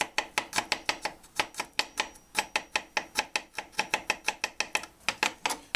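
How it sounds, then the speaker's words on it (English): A knife minces fresh garlic on a board in a cabin kitchen, producing rapid, evenly spaced sharp chops, about five per second, that are close, crisp and continuous with no voices. "just mince up a little garlic here"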